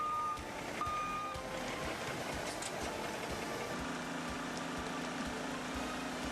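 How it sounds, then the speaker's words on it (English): A ready-mix concrete truck backs up toward a concrete hopper on a precast plant site, its reversing alarm sounding steady repeated beeps over a low engine rumble, with a deeper drone joining partway through. "Here you can see the Babbert Ready Mix truck backing up to the concrete hopper"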